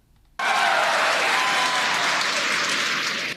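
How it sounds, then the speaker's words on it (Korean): Crowd in a mission control room bursting into loud cheering and applause after the first rocket stage separates on a Falcon 9 launch, sudden onset after a brief quiet moment, then a sustained, dense roar of clapping. "발사 약 2분 40초 뒤 1단계 로켓이 분리되자 환호성이 터져 나옵니다"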